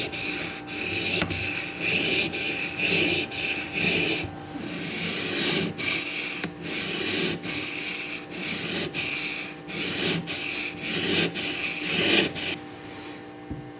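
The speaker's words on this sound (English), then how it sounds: "Wow, this thing is sharpening really fast." A Benchmade 940 knife blade is drawn across a sharpening stone in repeated rhythmic strokes, each a close, gritty rasp, with a short pause midway and a quieter finish.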